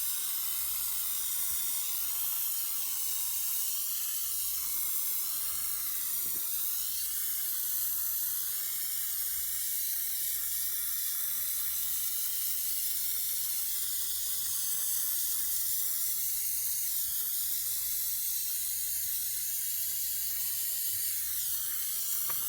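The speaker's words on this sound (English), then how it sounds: "you're just going to start spraying very evenly and at a medium pace." A spray coat applied evenly at a medium pace onto aquarium acrylic or glass, a long, steady high hiss of aerosol spray running continuously with slight fluctuations and no speech.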